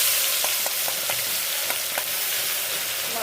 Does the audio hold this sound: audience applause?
no